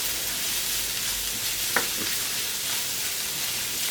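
Finely chopped celery and onion sautéing in a pan as soup begins, with a constant close sizzle and a single sharp utensil knock midway, no voices.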